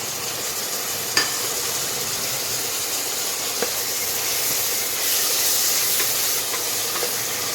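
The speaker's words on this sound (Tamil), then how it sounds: "வெங்காயம் நல்லா வதங்கட்டும்." Chopped tomato sizzling with onions in hot oil for a village-style country chicken curry, a steady close hiss of frying with a few faint clinks, no talking.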